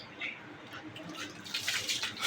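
Water splashes and trickles softly as it is poured into a tub for two white ducks kept at home, fairly quiet with faint voices in the background.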